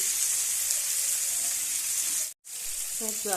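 Small fish frying in a pan, a loud continuous sizzle with stirring, cut by a brief silent gap before the sizzle resumes with a few faint tonal clinks.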